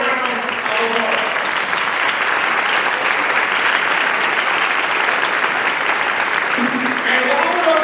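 Audience at a More Justice Nehemiah Action assembly applauding, a loud dense wash of clapping that holds steady throughout, with a voice speaking over it near the start and again at the end.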